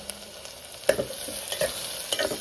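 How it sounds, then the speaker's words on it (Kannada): Two large cut onions frying in a few spoons of oil for a village-style mushroom sambar, a gentle sizzle with several distinct spatula scrapes and taps close by, no speech. "ಈರುಳ್ಳಿ ಸ್ವಲ್ಪ ಫ್ರೈ ಆಗಲಿ."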